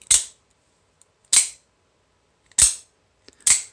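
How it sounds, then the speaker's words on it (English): Four crisp mechanical snaps of an OTF knife blade sliding out and locking into position, close and loud, spaced about a second apart with silence between them. "All I hear is the blade sliding out and snapping into position"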